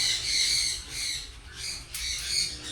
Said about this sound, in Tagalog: Oh, ang dami palang ibon ni idol dito.